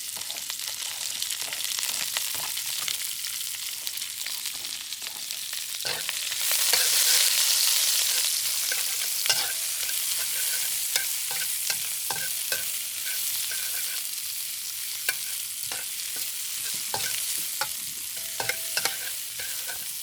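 Onions fry in oil in a wok with a bright, hissing sizzle that swells loudly partway through, punctuated by frequent clacks of a utensil stirring against the pan.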